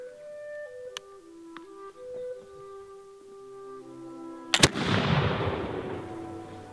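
A Baker infantry rifle fires a single loud, sharp shot on a range at 180 yards, followed by a long, fading echo, with soft tonal background sounds before the shot.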